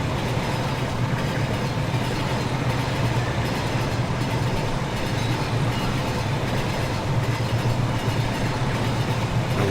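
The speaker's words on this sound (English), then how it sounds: "We'll go past our lumber train again." A lumber train in the Rolling Line model railway game rolls steadily along the rails, giving a continuous loud rumble and rattle of wagons with no pauses and no talk.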